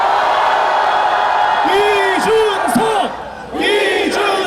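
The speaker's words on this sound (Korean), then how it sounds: "여러분 더 큰 함성을 보내주십시오." A large outdoor political rally crowd at Gwanghwamun shouts and cheers loudly, a sustained roar with rising and falling group yells and whoops, dipping briefly before swelling again.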